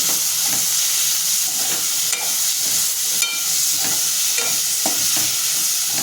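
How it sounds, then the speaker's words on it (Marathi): Cooked kidney beans (rajma) sautéed in spice masala in a pan, a steady loud sizzle and hiss with occasional stirring scrapes throughout, no voices. "आता ह्याच्यामध्ये शिजून घेतलेला राजमा आहे ते टाकून मी मसाल्यामध्ये परतून घेते"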